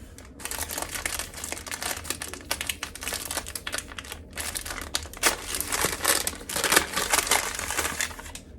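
Sheets of sticker paper crinkle and rustle as they are handled near a skein of yarn, a close, busy series of sharp crackles and crumples in uneven bursts with no talking.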